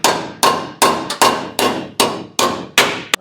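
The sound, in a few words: hammering metal on a 1937 Lincoln Zephyr firewall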